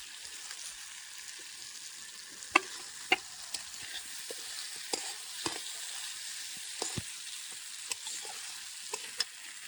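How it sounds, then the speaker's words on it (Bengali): Chicken meat frying in a pot as green chilies and large onion pieces are added for bhuna khichuri, a steady sizzle with scattered sharp clinks and scrapes of stirring, close and alone without talk. "এখন কাঁচা মরিচ আর এই বড় বড় সাইজের পেঁয়াজগুলো দিয়ে দেবো।"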